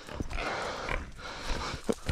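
Hunting dogs working a big sow during a hillside pig hunt, heard as rough growling and short animal bursts over rustling outdoor noise, ending in a louder close scuffle.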